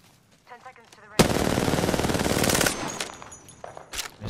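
Loud sustained automatic gunfire in Apex Legends, a rapid burst of shots that erupts after a quiet start with a few brief voices, runs for about a second and a half, then gives way to scattered distant shots.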